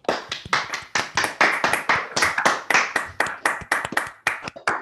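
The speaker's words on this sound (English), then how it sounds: "I'm going to ask everybody to unmute, and then we can applaud to thank Chris for his talk." Online audience in a video call applauding after a talk, a series of close, sharp hand claps in an irregular rapid rhythm from several unmuted participants, lasting several seconds with no talking.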